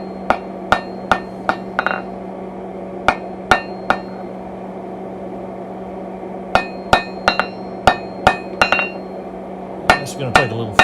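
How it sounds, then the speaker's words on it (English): Blacksmith's hammer striking hot steel while drawing a taper on a mantle hook, sharp ringing blows in short bursts of two to six with pauses between, close and loud over a low steady hum. "Just drawing the taper and make sure that it stays centered up."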